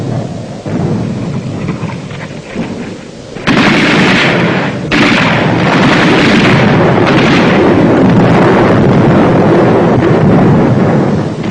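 Wartime mortar and artillery fire at San Pietro in 1945: a steady low rumble that breaks into loud, sustained booming and crashing blasts after a few seconds, continuing densely without speech.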